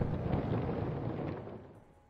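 A planet explosion sound effect gives a deep, rumbling roar that is loud from the start and slowly fades over about two seconds, with no voices.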